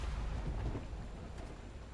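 Thunder in a stormy scene from the video game The Last Caretaker, a deep, loud rumble with steady rain hiss that slowly fades over two seconds, no voices.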